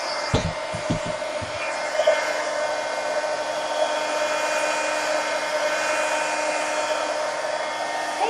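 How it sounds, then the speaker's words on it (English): A heat gun blows steadily to dry paint on a peacock poster, a loud continuous whirring roar that holds for several seconds, preceded by a few soft knocks at the start. "get the heat gun and dry this"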